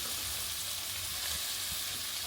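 Carrots sautéing with onions in a pan, a steady continuous sizzle and frying hiss with faint stirring, close and fairly quiet throughout.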